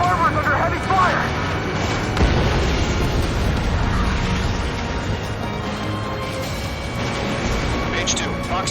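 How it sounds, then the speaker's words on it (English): Heavy gunfire and explosions pound a harbor in Ace Combat 7, a dense, continuous roar of booms and blasts with scattered sharper cracks, loud and sustained throughout, with radio voices mixed in. "The harbor is under heavy fire!"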